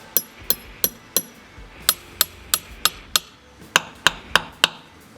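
Sharp, bright knocks of a drill bit tapping very dense ipe wood ring almost like metal striking metal, about fifteen evenly spaced hits in two bursts, close and loud with no talking.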